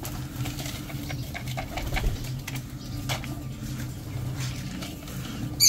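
Pigeons cooing in a flock, a soft, steady, low murmur of coos that carries on throughout with faint rustling and no one speaking.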